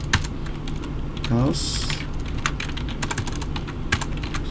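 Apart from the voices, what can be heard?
typing Java code on a computer keyboard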